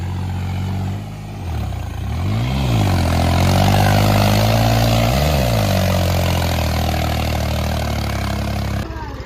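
A tractor engine fitted with 17/9-28 tyres strains through deep mud on a track, holding a loud, steady drone close by with a couple of brief swells in revs.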